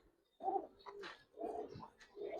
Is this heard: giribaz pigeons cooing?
yes